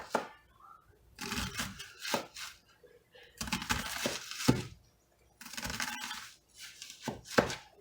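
A knife chops an onion on a cutting board in bursts of quick, close, crisp strokes separated by short pauses, with a person speaking at moments.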